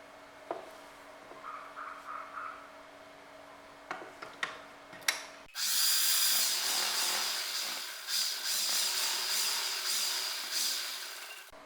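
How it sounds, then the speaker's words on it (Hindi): Sewing machine stitching the side seam of a baby dress, a few light ticks and clicks at first, then a loud steady mechanical whir of stitching for the rest of the clip. "अब हम इसको यहाँ से साइड से सिलाई लगा लेंगे।"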